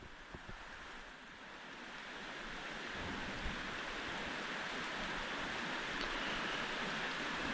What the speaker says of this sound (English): Just on that border between snow and rain.